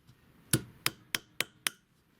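A wooden peg being hammered flush into a drilled hole in Japanese woodworking: five sharp, loud knocks at a steady, slightly quickening pace, each a crisp wooden crack with a short ring-off, alone over a quiet background.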